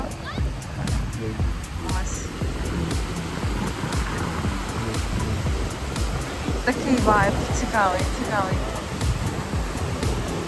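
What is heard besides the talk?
sea waves on a beach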